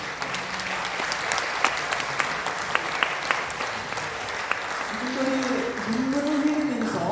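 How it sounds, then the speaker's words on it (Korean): Audience at a Korean church world mission conference claps steadily in encouragement of visiting mission supporters, a dense, even wash of applause with a few voices murmuring beneath it. "우리 여러분 격려의 박수 주시면 감사하겠습니다"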